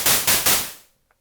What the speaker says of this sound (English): So at a 0 value, that's white noise.